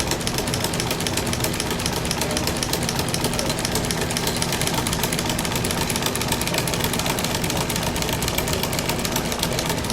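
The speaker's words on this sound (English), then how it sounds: "the marvelous thing about this machine is that it actually makes the cord as it sews" A three-thread sewing machine forms cord as it stitches, giving a steady, dense mechanical whir at constant loudness with fast rhythmic chatter, continuous throughout with no pauses.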